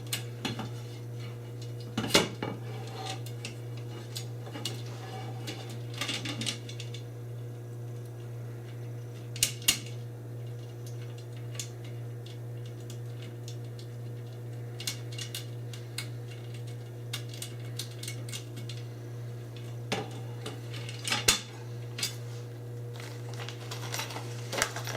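A lock nut being tightened on an EZSMART universal edge guide: sporadic close metallic clicks, taps and scrapes of tool on metal spread through the clip over a constant low electrical hum, with no voices.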